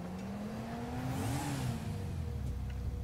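A car engine in GTA V rising in pitch as it accelerates during a chase, a steady, loud mid-range drone that climbs and dips slightly, with no talking.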